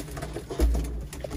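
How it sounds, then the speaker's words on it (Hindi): A Chaudhry-breed pigeon in a home loft gives a short, deep, close coo over faint background noise. "ये चौधरी वाले कबूतर हैं"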